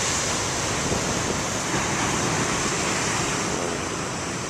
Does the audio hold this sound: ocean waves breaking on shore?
yes